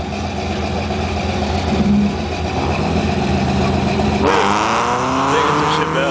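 A Cobra Mustang and a Chevelle at street drags, loud engines roaring and revving hard throughout, with the pitch climbing as they accelerate and a crowd murmuring underneath.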